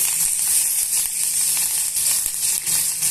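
Crushed garlic and curry leaves sizzling in hot oil, a loud, continuous close-up crackling hiss with small spitting pops throughout.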